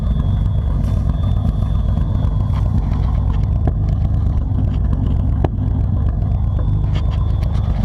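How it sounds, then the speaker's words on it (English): A pickup truck idles through a catback exhaust with no muffler, a steady loud low rumble with a throaty burble, close and continuous with no talking. "Let y'all hear the exhaust."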